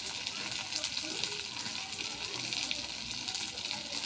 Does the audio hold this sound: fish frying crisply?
yes